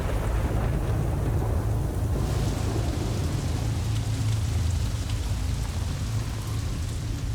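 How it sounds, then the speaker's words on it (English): Heavy rain pouring down steadily in the wilderness, a dense unbroken hiss with low rumbling underneath, loud and continuous throughout with no voices. "After 8 days of solid rain."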